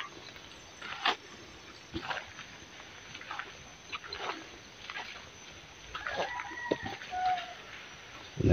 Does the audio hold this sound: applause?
no